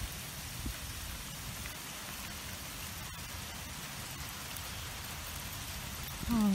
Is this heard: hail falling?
yes